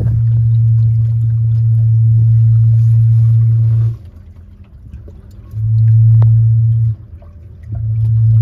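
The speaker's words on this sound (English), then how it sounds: "swing keel, that's what that noise is" Swing keel of a 1974 Cal 21 sailboat, a steady low droning hum that runs for several seconds, stops, then returns twice in shorter stretches with quieter gaps between, close and fairly loud.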